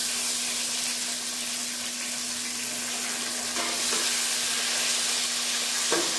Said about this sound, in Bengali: দিয়ে দেবো রসুন, দিয়ে দেবো টমেটো, কুচিয়ে রাখা টমেটো দিয়ে দেবো তেলের মধ্যে